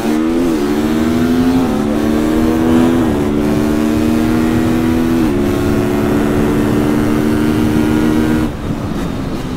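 A supermoto motorcycle engine revs loud and close, holding a steady high drone with a few quick throttle blips and pitch shifts, heard alone with no talk.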